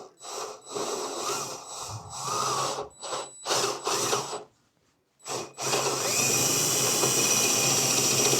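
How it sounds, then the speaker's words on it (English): Power drill boring a hole for a stick rack, several short whirring bursts separated by pauses, then a longer sustained run, close and fairly loud. "So let's get drilling."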